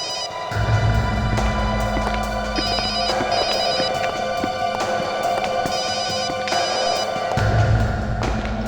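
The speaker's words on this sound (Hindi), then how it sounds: "फोन बज रही है।" A telephone rings insistently in a tense indoor scene from a crime drama, a steady repeating electronic trill kept up for several seconds over a background music bed.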